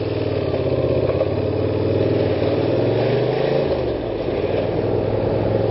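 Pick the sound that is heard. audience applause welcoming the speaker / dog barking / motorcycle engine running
motorcycle engine running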